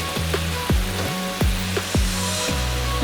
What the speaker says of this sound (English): the water started boiling